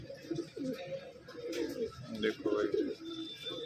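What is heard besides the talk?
pigeon cooing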